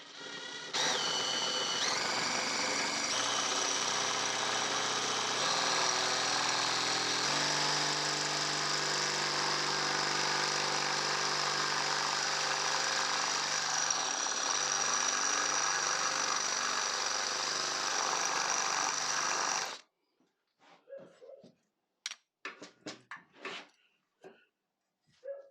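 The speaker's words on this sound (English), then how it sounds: "I'm just going to drill these rivets out here" A power drill whines steadily as it bores out the rivets on a Yamaha TZR 125 motorcycle foot rest, running close and loud for about twenty seconds before stopping, followed by a few scattered clinks and knocks of handling.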